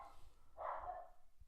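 A single dog bark rings out at moderate distance over a low background rumble, with no speech.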